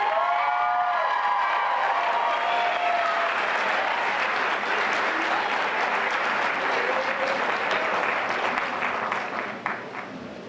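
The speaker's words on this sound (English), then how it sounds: "Could we get one more round of applause for the class of 2015?" A graduation crowd gives the class of 2015 a sustained round of applause, dense clapping with some cheers and whoops, holding steady before tapering off near the end.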